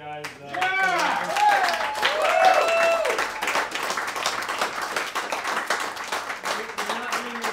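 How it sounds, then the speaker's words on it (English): An audience at a film festival Q&A applauds steadily, dense clapping sustained throughout, with voices and cheers mixed into the crowd near the start. "A round of applause for these guys."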